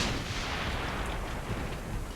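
Heavy cannon fire in the video game Dungeon Defenders II, a huge cannon shooting at incoming airships, heard as a dense, continuous roar of blasts that stays loud and steady throughout, with no voices.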